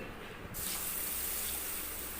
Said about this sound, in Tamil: ரெண்டரை கிளாஸ் பாசுமதி அரிசி எடுத்து தண்ணி ஊற்றி ஊற வச்சுக்கலாம்